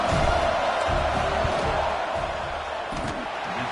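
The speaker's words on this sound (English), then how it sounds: "This crowd trying to do its part to get inside the kicker's head." Stadium crowd noise from the NCAA 25 college football video game during a field goal attempt, a steady loud roar of many voices sustained throughout with no clear breaks.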